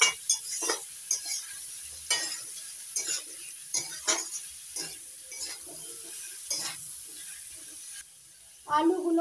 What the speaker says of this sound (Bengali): আলুগুলো হালকা লাল করে ভেজে নিয়েছি।